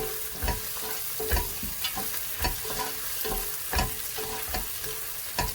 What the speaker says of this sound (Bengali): পেঁয়াজটাকে আমি ভাজতেছি